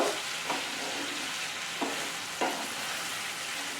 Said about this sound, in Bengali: নেড়ে চেড়ে ভালো করে ভেজে নেব